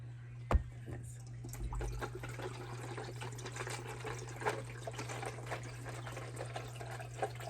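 Blueberry lemonade flavored water pours into a cup at a meal. A close, steady trickling stream with small splashy surges runs for several seconds under a low background hum.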